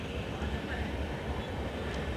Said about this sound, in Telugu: ఈ ట్రైన్ ఇప్పుడు ప్లాట్ఫామ్ నెంబర్ 2 పైన ఆగుతుంది.